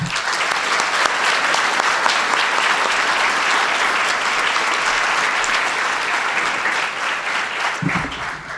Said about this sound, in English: please give an extra round of applause to Professor Duggan